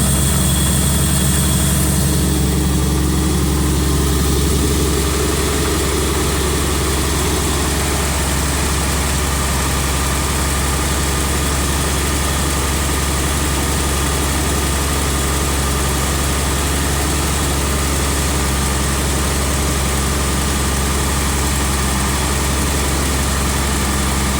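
A vehicle engine, nicknamed Myrtle, idles after a hard start, a loud steady low rumble with constant vibration that carries on unchanged for the whole stretch, no voices over it.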